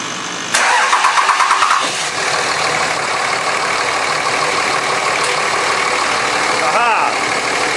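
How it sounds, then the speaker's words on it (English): A Ram 2500 pickup with a 5.9 Cummins diesel cranks briefly with rapid rhythmic churning, catches, and settles into a steady, loud, close-up diesel idle, with a short whine near the end. "Beginning engine starting sequence now."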